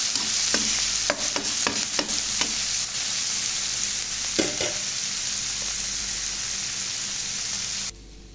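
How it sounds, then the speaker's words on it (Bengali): Onions and spices frying in a pan for a prawn and cauliflower bhuna, with a steady close sizzle and several sharp stirring scrapes, cutting off abruptly near the end. "এখন পেঁয়াজটা ভাজবো"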